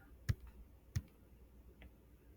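A computer mouse clicks twice in quick succession, sharp and close, with a fainter third click shortly after, during a quiet physics lecture setting with no talking.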